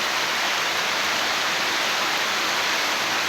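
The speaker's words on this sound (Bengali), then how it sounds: "এখন প্রবল বাতাস এবং প্রচুর বৃষ্টি হচ্ছে।" Heavy rain and strong storm wind in Narayanganj make a dense, unbroken roar that is loud and even throughout, with no voices.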